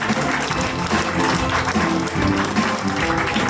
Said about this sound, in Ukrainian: Ваші аплодисменти, адвокат Віра.